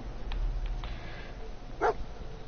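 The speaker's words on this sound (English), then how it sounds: "Dog found something." A dog in the video game Fallout 4 gives one short bark over a steady low game ambience.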